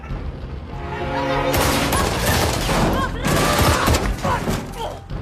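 Heavy gunfire erupts in a film battle scene as Taliban fighters attack American troops from all sides, dense volleys of rifle and machine-gun shots with booming impacts, loud and continuous after a brief lead-in.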